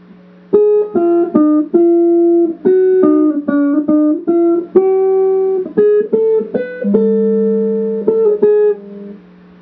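Part 2 of the Elfen Lied opening, played on solo guitar as a gentle melody of plucked notes over a held low bass note, close and clear with no voices.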